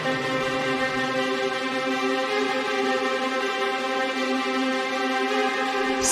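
A sustained string section from a heavy melodic dubstep track holds rich, layered chords for about six seconds at steady volume, with no drums or voices.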